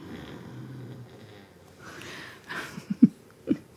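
Someone asleep in the room snores during a live painting session, with low rasping breaths under a steady rumble and a few louder snorts near the end.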